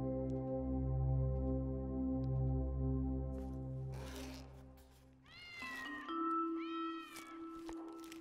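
A cat meows in a domestic setting, sharp drawn-out cries near the end after a long droning tonal sound, loud and close.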